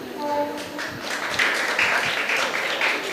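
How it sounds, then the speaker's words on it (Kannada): An audience at a high school annual day ceremony in Someshwara gives steady, dense applause that fills the hall, with a voice heard faintly at the start. "ಜೋರಾದ ಚಪ್ಪಾಳೆಯೊಂದಿಗೆ ಅವರನ್ನು ಪ್ರೋತ್ಸಾಹಿಸಿ."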